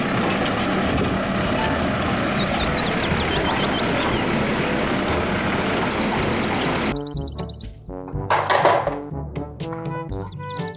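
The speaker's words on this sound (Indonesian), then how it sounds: "Mobil truk sampah." A toy garbage truck gives off a steady, loud electronic engine rumble with faint beeping, then switches to choppy mechanical effects and tones.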